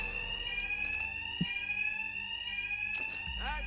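An alarm rings in the video game Batman: Arkham Knight, a continuous high electronic tone droning steadily throughout, with a few faint clanks and swooshing effects beneath it and no speech.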